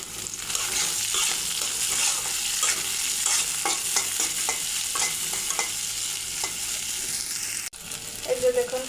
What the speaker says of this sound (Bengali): এই যে দেখুন পেঁয়াজটা ভাজা হয়ে গেছে